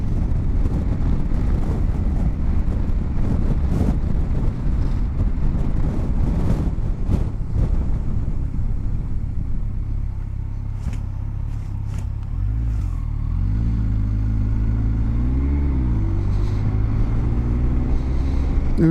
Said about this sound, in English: And again there, pulled away in 4th gear, no problem.